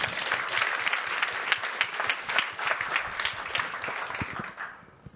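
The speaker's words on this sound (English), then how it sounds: "We'll have a round of applause for that as well." An audience at a wellbeing talk gives a round of applause, many hands clapping in a full, moderately loud burst that thins and fades away at the close.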